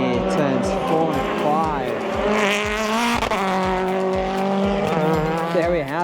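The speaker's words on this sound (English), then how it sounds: "First session of seeing the BTCC cars on track." BTCC touring cars race around a UK circuit, engines revving loud and close with rising and falling pitch and occasional tire squeal, while a person talks over the constant roar.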